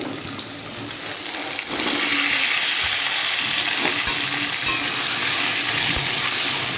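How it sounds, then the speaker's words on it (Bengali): Pieces of taro frying in hot oil seasoned with turmeric, a steady loud sizzle close by with occasional stirring knocks and no talk. "এবার এটা ভাজবো"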